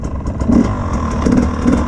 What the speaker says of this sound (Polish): trzeba grzać na motor